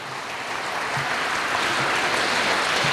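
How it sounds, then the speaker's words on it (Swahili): Sustained applause from an audience at a Mwalimu Nyerere foundation conference at Sokoine University in Morogoro, Tanzania; dense, even clapping fills the whole stretch at steady loudness with no voices over it. "naomba tupige makofi mengi sana."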